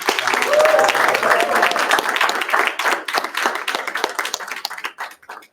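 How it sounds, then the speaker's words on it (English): Audience applause at a community town hall, a dense wash of many hands clapping that holds steady, then thins into scattered claps toward the end, with a voice briefly audible early on. "Hands, round of applause, please."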